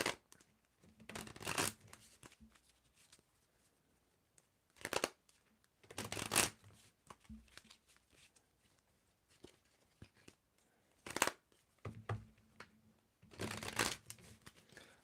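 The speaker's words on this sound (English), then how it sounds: "You tell me when to stop shuffling." Tarot cards are shuffled in several separate bursts of crisp riffling and flapping, each lasting a second or two and separated by quiet pauses. The sound is close and fairly soft, with no speech.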